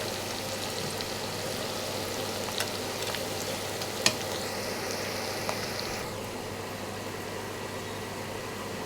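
Chopped onion and garlic fry in oil in a pan, giving a continuous, even sizzle. A few faint clicks and one sharper tap break through the hiss.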